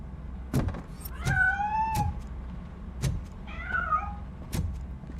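A cat meows in the video game RoboCop: Rogue City, with two drawn-out, rising-and-falling calls over a low background hum, broken up by sharp thuds and clicks.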